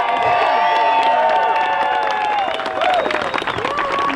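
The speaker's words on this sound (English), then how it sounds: "Let's give a big round of applause." Outdoor rally crowd in the North Country backing law enforcement and military claps and cheers, with whoops and shouts over a steady bed of applause and some voices mixed in.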